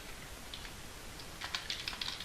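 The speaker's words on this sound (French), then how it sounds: "laissez-moi voir si je me rappelle comment écrire sur mon clavier français" Typing on a French-layout computer keyboard, a quiet scatter of light key clicks that grows busier toward the end, with no voices.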